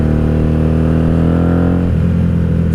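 A 1997 Honda Magna VF750C motorcycle engine ridden on a night highway, a steady loud mid-pitched drone that drops in pitch near the end as the engine eases off.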